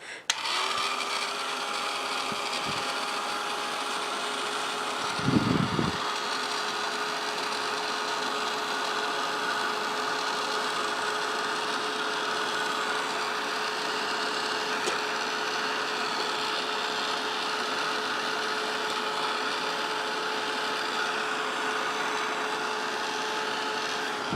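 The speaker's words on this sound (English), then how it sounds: "I'm going to take a low heat Ranger tool and go under it and get it started" Ranger low heat tool blowing under a debossed, inked paper piece, a steady close whirring drone lasting throughout, with a brief knock early on.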